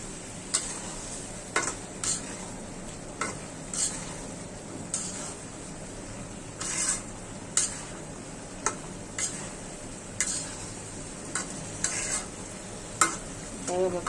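Stem vegetables with shrimp and jackfruit seeds sizzle in a pan over steady frying hiss, with about a dozen sharp scrapes and clacks of a spatula stirring at irregular intervals, close and without talk.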